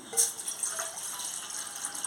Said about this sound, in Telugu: అందులో ఒక గ్లాస్ వాటర్ వేసుకోవాలి